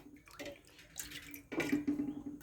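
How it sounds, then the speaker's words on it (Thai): Water pours into a pot of spicy Thai bamboo shoot curry, a close, faint splashing trickle that swells near the end, with no talking. "เติมน้ำแล้วค่ะ"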